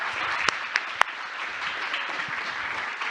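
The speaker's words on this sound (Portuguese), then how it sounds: "Palmas, pessoal!" Audience applause at a business workshop, a steady wash of clapping from a crowd with a few sharp close claps standing out near the start, no voices.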